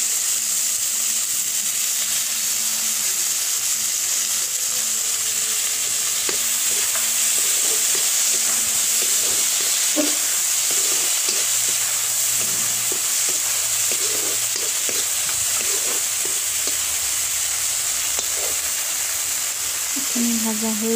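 Sorrel leaves (chuka) fry with onions in a pan, giving a steady broadband sizzle with scraping stir strokes throughout, a close, constant hiss and clatter of cookware.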